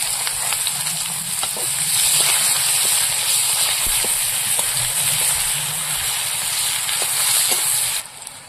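Whole cumin, bay leaves and chopped onion sizzle in oil left over from frying fish, a loud steady hiss and crackle with occasional stirring clicks that cuts off abruptly near the end.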